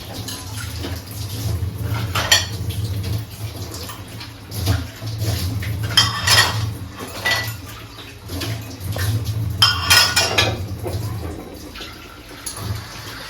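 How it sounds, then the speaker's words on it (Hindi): Dishes and utensils are washed in a home kitchen, with repeated clinks of pots and cutlery against running water, close and continuous. "तब तक मैंने यहाँ पे जो बर्तन रखे हुए थे वो सारे क्लीन कर लेती हूँ"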